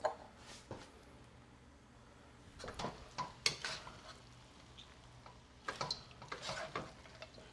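Bean sprouts and green onions stirred into chicken pad thai in a pan with the heat off, giving sparse soft scrapes and clinks of a utensil against the pan, quiet and close.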